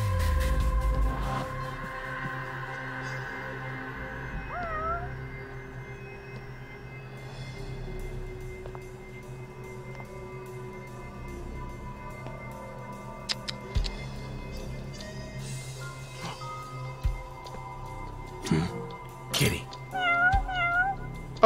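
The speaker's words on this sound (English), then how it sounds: "Oh, look, a cat." In the video game Judgment, a cat meows on a city rooftop. A couple of soft meows come early, then a cluster of louder, repeated mews near the end over a low, steady urban hum.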